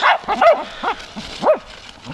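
Several short, high yips and barks from hunting dogs close by on a fox hunt, coming in quick irregular bursts with a whiny edge.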